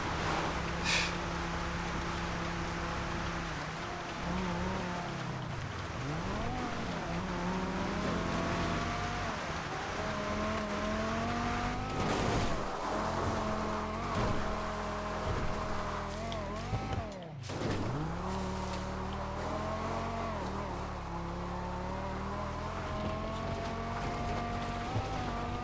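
A supercar engine in GTA 5 drones steadily as the car climbs Mount Chiliad, its pitch rising and dipping with gear changes, with a brief drop in the middle, loud and continuous throughout.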